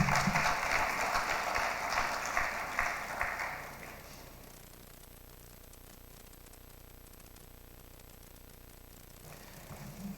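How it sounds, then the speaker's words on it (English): Audience applause at the official launch of a digital and creative enterprises program, a dense burst of clapping for about four seconds that fades into low room noise, then a brief return of clapping at the end. "Another round of applause, please."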